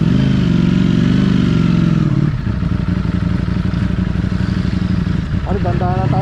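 A Ducati Monster motorcycle engine idles loud and close with a steady throbbing rumble, then drops to a rougher, pulsing idle; a voice talks over it near the end.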